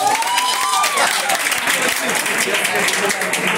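Audience clapping and cheering at a drag ball battle event, a dense steady burst of applause with voices shouting over it throughout.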